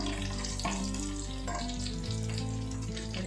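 Curry leaves and roasted gram fry in a pan for avalakki oggarane, a soft steady sizzle with a few stirring scrapes under sustained musical tones.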